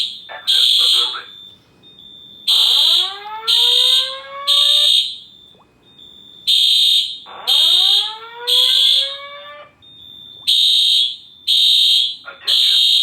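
A Simplex fire alarm system sounds loudly, with repeated bursts of a whooping tone that rises in pitch, alternating with horn blasts and a recorded voice announcement.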